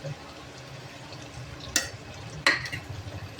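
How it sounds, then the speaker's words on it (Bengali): Whole garam masala spices frying in ghee with a low steady sizzle, broken by two sharp clinks of a utensil against the pan, close and fairly quiet. "এইখানে দিয়ে দিচ্ছি সব রকমের গরম মশলা হালকা হালকা করে ভেজে নেব"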